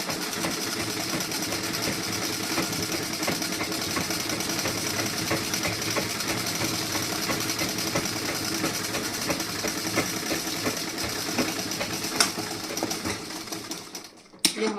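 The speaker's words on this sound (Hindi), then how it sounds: "तो इस तरीके से आप डबल सिलाई कर दीजिए।" A sewing machine double-stitching the front part of a blouse whirs in a fast, steady run that continues almost the whole time, then slows and stops near the end.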